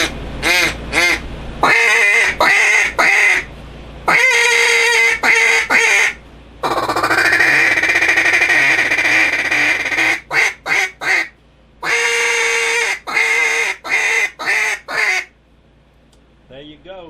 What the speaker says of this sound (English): And that's how you make a duck call.